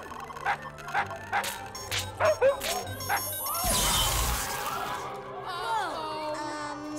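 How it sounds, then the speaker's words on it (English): A dog lets out several short, sharp barks in an uneven burst, then a crash and a noisy jumble of sounds follows. "Somebody needs to work on their indoor bark"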